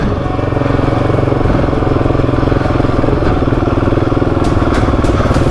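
A motorcycle engine chugs with steady throttle on a rough off-road trail in Spain, a loud, close, pulsing drone with clattering from the rough ground and a few sharp knocks near the end.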